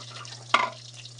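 Garlic dropped into a hot pan for chicken adobo gives one short sizzling burst over a steady low electrical hum, then settles back to near quiet.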